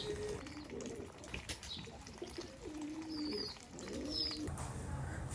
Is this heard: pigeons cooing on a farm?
yes